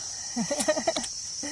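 Frogs croak outdoors in mushroom-foraging country, giving a short run of about half a dozen rising and falling calls over a steady high insect drone.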